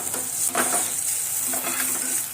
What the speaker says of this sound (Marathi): आता मिरची टाकूया मिरची पण चांगली लाल होऊन देऊया